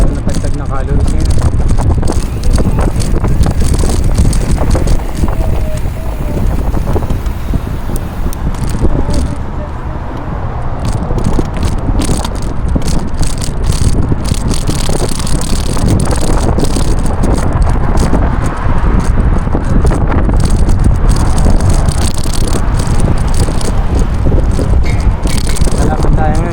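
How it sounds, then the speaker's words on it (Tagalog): Strong wind roars and buffets the microphone continuously during a road trip, a loud broadband rush with rattling from the vehicle beneath it. "Malapit tayo ngayon kasi malakas ang hangin."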